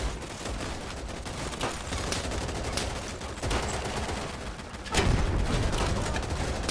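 High explosive shell firing from a vehicle gun in the video game Easy Red 2, a dense roar of gunfire and booming blasts with a heavier burst near the end, loud and continuous.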